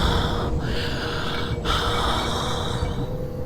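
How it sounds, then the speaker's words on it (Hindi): Heavy, rasping breaths rise and fall over a steady droning hum, with a couple of sharp gasping pauses that give an eerie, menacing feel, in an animated horror story. "तभी उसे भयानक सांसों की आवाज आने लगी।"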